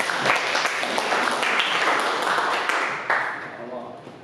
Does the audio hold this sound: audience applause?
yes